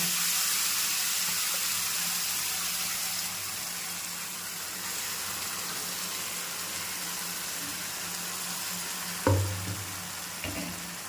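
Ground Chettinad chutney sizzles and hisses steadily in tempered oil with curry leaves in a pan, with a clank of a utensil and a brief burst of louder frying near the end.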